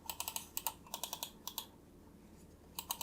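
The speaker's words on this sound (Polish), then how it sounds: "klik dość miękki i przyjemny, nie za głośny" Nubi NM1 S wireless mouse buttons with Huano Blue Shell White Dot switches, a series of quick, crisp, fairly soft clicks close up, in rapid pairs and short bursts with a brief pause before the final few.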